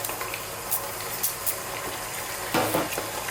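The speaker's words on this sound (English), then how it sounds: "And then what I want to do is just fry this around." Garlic chicken frying in a pot, a steady sizzle with a few scraping stirs and clinks from the utensil, close and fairly loud, no talking.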